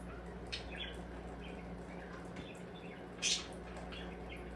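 A pair of red cardinals, a male and a female, give short, sparse chirps outside, faint to moderate and scattered, with one louder chirp near the end over a soft trickle of water.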